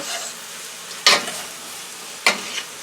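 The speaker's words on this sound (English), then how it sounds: "like a big wok. We can mix everything together." Fried rice with shrimp and chicken sizzles steadily in a wok, broken by two sharp stirring scrapes about a second apart, close and fairly loud.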